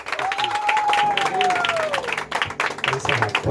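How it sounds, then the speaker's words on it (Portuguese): Wedding ceremony guests clapping for the groom, a dense patter of applause mixed with voices and a rising cheer or whistle-like tone in the room. "Irmão, uma salva de palmas pro noivo."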